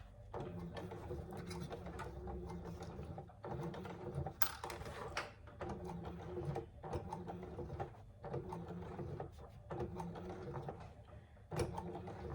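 A sewing machine stitching a hobo bag, with back-stitching to finish, runs in steady rhythmic bursts separated by short pauses, close and fairly quiet, with no talking.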